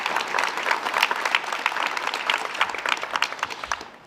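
A ceremony audience gives a round of applause at a memorial event, dense steady clapping from many hands filling the room for the full stretch before fading slightly at the end.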